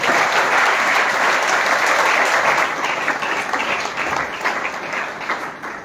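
A church congregation applauds, dense sustained clapping from a crowd that holds steady, then thins slightly toward the end.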